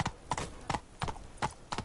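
Roach the horse's hooves in The Witcher 3: Blood and Wine make a steady rhythmic clip-clop, about six close, even hoofbeats at a walking pace.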